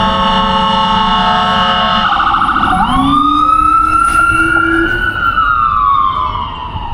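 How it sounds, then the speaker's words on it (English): Emergency sirens blaring up close on a downtown street in Huntington, West Virginia, a steady horn tone shifting into a rising wail as the vehicles pass, loud throughout. "You had to wait till them sirens go by"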